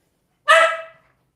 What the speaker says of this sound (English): They start barking in the kitchen.